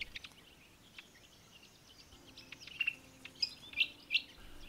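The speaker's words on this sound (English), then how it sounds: "Here we have a red cap robin." A female red-capped robin gives a few faint, thin chirps outdoors, short high notes that grow more frequent toward the end over a quiet background.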